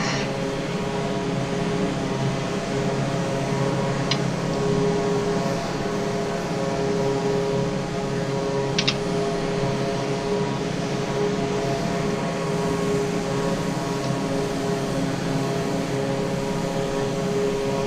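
Steady drone of a Piaggio P-180 Avanti twin turboprop in flight within a video game, a continuous engine hum with stable tonal bands, accelerating without flaps and holding constant throughout with no talk over it.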